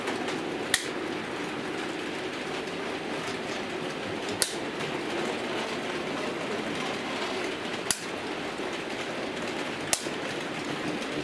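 A Class 73 model locomotive on analog-controlled dual track runs in a continuous faint rolling whir, with a few sharp clicks at intervals as it passes over rail joints or points.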